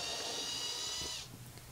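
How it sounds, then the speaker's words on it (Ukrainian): A small drill whines at a high pitch for about a second while drilling a 1 mm hole, then stops, leaving faint handling noise. "Свердлимо два отвори, один біля одного, діаметр 1 мм"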